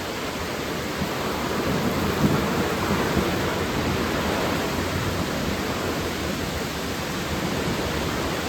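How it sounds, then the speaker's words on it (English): Steady heavy rain with a continuous broad rumble of thunder through a stormy night on the Appalachian Trail, sustained and loud with no voices. "It was a stormy night last night."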